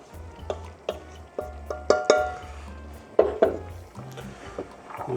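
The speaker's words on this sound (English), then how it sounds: "so we'll throw our passata in there" Thick tomato passata, just under a litre, tipped into a cooking pot for baked rice, with soft glugging and several sharp clinks of utensil and container against the pot, close and fairly loud in a quiet kitchen.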